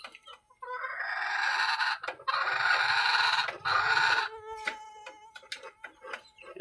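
Backyard hens of mixed breeds, Brahma, local and golden rooster, clucking loudly and continuously as they feed at night, close by, with a few short sharper calls near the end.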